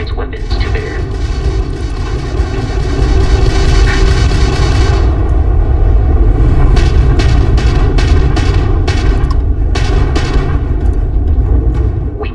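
Crimson Fleet ship weapons firing during space combat in Starfield, a loud sustained engine roar with a series of sharp blasts and impacts, bursts clustering in the latter half.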